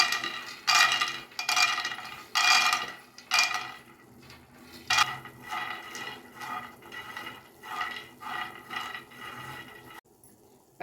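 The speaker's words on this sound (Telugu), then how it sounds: "పల్లీలు కూడా వేయించుకుందాం." Peanuts roasting in a pan, stirred in bursts so the nuts rattle and scrape against the metal in several loud rolling clatters separated by short quiet gaps.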